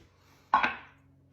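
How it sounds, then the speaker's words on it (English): Canned buttermilk biscuits being cut into small dumplings, heard as one short close knife chop on a board, a double tap with a quick fade, in a quiet kitchen. "Cut them into little dumplings."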